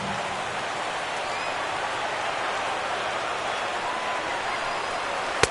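A stadium crowd of about 22,000 at a Mariners vs Indians game in MLB The Show rises to its feet on the final strike, making a steady, dense roar like rushing rain throughout.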